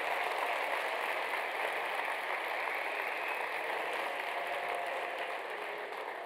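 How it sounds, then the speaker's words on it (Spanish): An audience at a public talk in Talagante gives a continuous, even wash of applause, moderately loud and slightly distant, with no speech over it. "Le pido también que le brindemos un caluroso aplauso"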